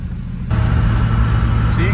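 1975 Ford Maverick engine cruising at around 55 mph, a low steady rumbling drone heard from inside the car that swells slightly louder after a brief quieter start.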